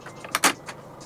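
A 2018 Hyundai Tucson 2.0 CRDi's central locking fires inside the cabin: a quick cluster of sharp mechanical clicks and clunks from the door lock actuators, close and brief.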